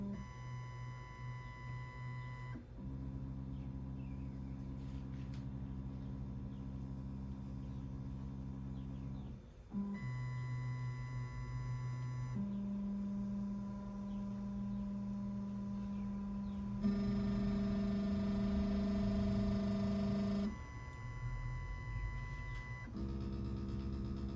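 A Shapeoko XXL CNC router runs a corner probe on a wooden workpiece, its stepper motors whining in steady tones that shift pitch between moves, with brief quiet pauses between segments.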